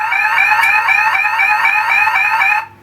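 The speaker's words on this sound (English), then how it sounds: "That noise is because the door is open." A Universal Pacific Red Bar 5 Coin Multiplier poker machine sounds its door-open alarm, a loud, continuous warbling electronic tone with a rapid repeating pulse that cuts off abruptly near the end.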